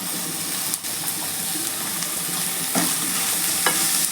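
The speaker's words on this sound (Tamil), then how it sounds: "வெங்காயம் நல்லா வதங்கிடுச்சு. இப்போ தக்காளி சேர்த்துக்கலாம்." Chopped onions and tomatoes frying in a pan and being stirred, with a steady close sizzle broken by a few sharp scraping strokes of the spoon, no voices.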